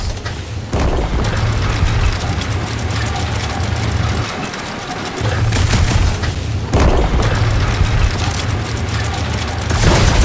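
Sci-fi guns fire continuously in the Guardians of the Galaxy video game, pulsar blasts and a cryocompressor layered into a dense, loud barrage of booming low thumps and mechanical clatter, pausing briefly before resuming.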